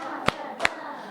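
Two sharp, separate claps sound close by from children in a classroom, rewarding a correct answer and spaced about a third of a second apart.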